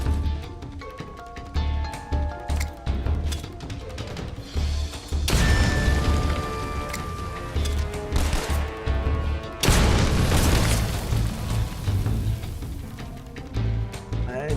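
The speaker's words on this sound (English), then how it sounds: "I'm just gonna throw a grenade at that guy." Loud booms and crashing impacts go off in the Metal Gear game, one heavy blast mid-way and another near the end, set among scattered clattering hits and dense action noise.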